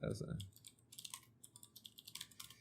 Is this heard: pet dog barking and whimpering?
no